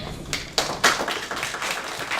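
An audience claps for a student speaker at a school presentation event with a few sharp, close individual claps rising into sparse, scattered clapping at moderate loudness.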